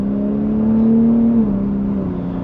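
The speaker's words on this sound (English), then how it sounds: "If you just give a little bit of gas here, she just goes." A Ford F-150 Raptor truck with a 3.5L turbocharged V6 pulls away under light throttle, its engine drone steady and close, rising slightly in pitch and then easing as it shifts, with no talk over it.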